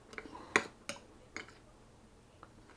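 A spoon clinks and scrapes in a bowl of oatmeal with vanilla caramel creamer mixed in, a few quick, close taps spaced irregularly, louder at first and then fading, with no voices.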